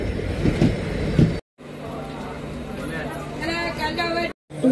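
Dadar Sawantwadi Tutari express rolling past on the Konkan Railway, a loud rumbling rush with wheel clatter and a faint squeal, broken by two brief gaps, with people talking over it.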